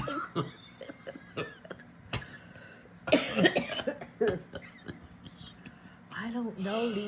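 Several short coughs burst out among quiet voices and breathy murmurs, the harshest cluster in the middle, followed by people talking.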